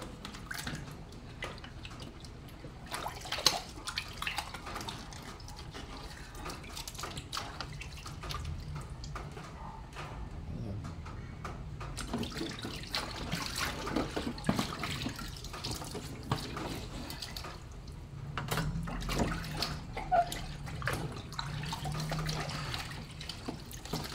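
Water runs from a tap continuously for a long stretch, with splashing and shifting flow as hands are washed under the stream.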